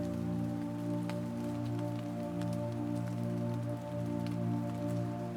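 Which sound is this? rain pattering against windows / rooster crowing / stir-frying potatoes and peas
rain pattering against windows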